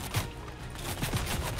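Gunfire from the Fortnite video game during an FNCS cup tournament broadcast, a scattered burst of muffled, close-range shots over a steady noisy game backdrop.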